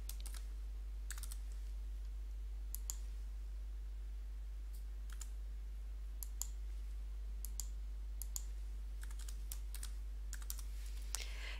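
Computer keyboard typing while event title and subtitle details are entered, a sparse irregular run of quiet key clicks over a low steady hum, with no speech.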